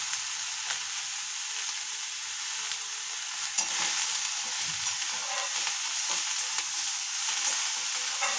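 Vegetables sizzle in hot oil with a little turmeric for a Bengali fried dish, a steady close frying hiss broken by scraping stirs and a few sharp utensil knocks against the pan.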